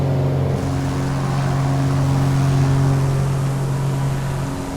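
Piper Arrow III single-engine propeller plane in the MSFS2024 simulator runs at full power during its takeoff roll, a steady loud drone with strong low tones that holds evenly throughout.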